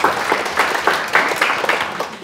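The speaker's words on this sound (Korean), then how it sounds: "너무 좋은 질문 해주셨는데 큰 박수 부탁드립니다." A short, lively round of audience applause at a question-and-answer lecture, dense clapping close by, steady throughout without speech.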